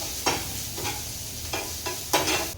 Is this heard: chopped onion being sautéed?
yes